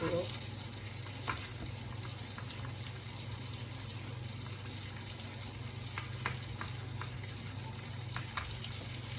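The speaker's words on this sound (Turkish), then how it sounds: "Şimdi tereyağı eridi sayılır. Naneyi katıyorum." Mint leaves hit melted butter in a pot over low heat for a Turkish yayla soup, giving a steady soft frying sizzle throughout with a few faint clicks and stirring taps.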